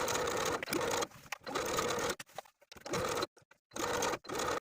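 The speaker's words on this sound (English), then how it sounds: "Now I'm going to take this to the sewing machine and sew all the way around the armhole" A sewing machine whirs in bursts of rapid stitching, stopping and starting several times with short quiet gaps between runs.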